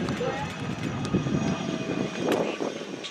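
A CF-18 Hornet fighter jet touches down and rolls out at the Bremerton airshow, a continuous engine rumble and whine at moderate distance with a slight swell near the end.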